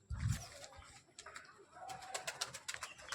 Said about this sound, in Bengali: দেখো 5টা পায়রা, সব সাদা পায়রা।